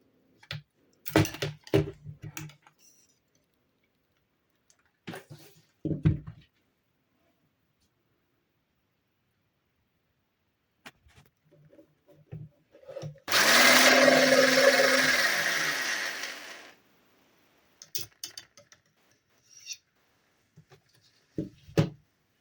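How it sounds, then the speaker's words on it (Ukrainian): A hand whisk beats condensed milk into a homemade Baileys-style cream liquor mixture, a single loud continuous burst of whisking lasting about three seconds, set between quiet stretches of scattered kitchen clatter and soft talk. "зущене молоко додала і також збиваю знову вінчиком нашу рідину"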